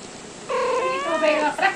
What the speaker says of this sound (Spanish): Esta es mi gata, Frasquita.